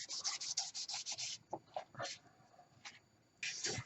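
Sanding overspray off a repaired Bakelite piece produces bursts of dry, close-up scratchy rubbing in quick strokes, with short pauses between passes.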